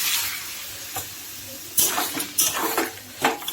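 A spoon scraping and knocking against a pan while fried potol and soya chunks are stirred into a spiced curry with water, a soft simmering hiss underneath and several sharp metallic clinks, fairly close.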